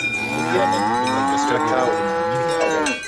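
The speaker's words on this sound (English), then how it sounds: "We got cow and cowbell going on the chat box" Cow moo with a cowbell ringing, played as a chat donation alert during a live stream; a single loud, drawn-out moo with bright bell tones throughout, filling about three seconds on its own.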